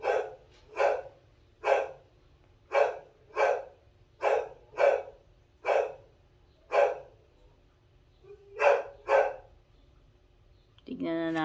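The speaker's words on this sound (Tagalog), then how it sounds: "ang ingay naman ng aso" A dog barks repeatedly in steady bursts, roughly a dozen sharp barks spaced about a second apart, fairly close, with a brief pause before a final pair.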